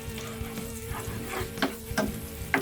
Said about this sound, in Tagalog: Ngayon, lalagay na ang Bawang.